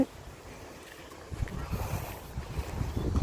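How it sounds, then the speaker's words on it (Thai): Cold wind blowing at a hillside campsite on the Khao Kho highway, gusting and buffeting the microphone with low rumbling bursts that grow stronger in the second half. "อากาศเย็นมากเลย ลมเย็น ดูจากลมพัดนะ ฝนที่ปลิว"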